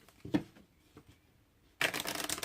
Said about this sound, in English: I can just sit here and say, oh, I'm shuffling dual lands.